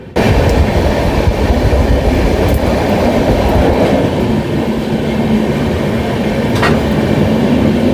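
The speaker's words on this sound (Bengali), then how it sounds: "ট্রেন এখন ক্রস করছে লিলুয়া স্টেশন থেকে।" A passenger train rolls through Liluah station with a loud, continuous rumble and steady rattling of wheels on track, heard close from on board with no speech.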